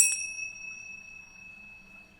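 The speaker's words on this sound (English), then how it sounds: "I love the sound of a bell" A single bell struck once, bright and ringing, its clear tone fading slowly over about two seconds; quiet and alone, with no voices.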